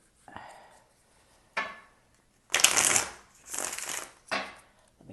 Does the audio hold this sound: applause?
no